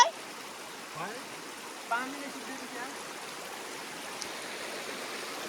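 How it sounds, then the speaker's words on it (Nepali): A river stream in cold winter weather runs with a steady, broad rushing of water, with a few brief, faint voice-like sounds over the flow. "खोला चाहिँ अचेलतिर ठुलै छ"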